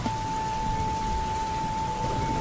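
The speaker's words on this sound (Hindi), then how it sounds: "रामू आसमान की तरफ देखकर बोला, लगता है आज बारिश मेरी परीक्षा ले रही है।" Steady rain falling in a dense, even patter with a constant hiss from start to end, loud and close, alone with no voices.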